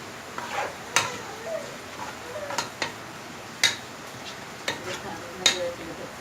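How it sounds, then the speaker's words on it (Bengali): Raw beef is kneaded with spices by hand for a curry with man kachu, making repeated wet squelches and soft slaps at an irregular pace, close by, over a steady background hiss. "এখন মাংসগুলো দিয়ে দিচ্ছি, দিয়ে আমি সবগুলো খুব ভালো করে মাখিয়ে নিব।"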